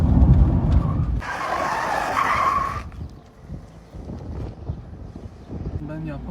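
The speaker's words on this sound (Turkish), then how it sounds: "El frenini kaldır tam sola." A car skids during a handbrake turn, tires scraping across the surface in a loud burst of about a second and a half, heard from close by with wind buffeting the microphone and rumbling vehicle noise around it.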